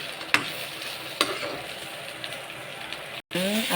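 Onions fry in a little oil in a pan with a steady crackling sizzle and a couple of sharp utensil knocks, close by, with a brief dropout near the end.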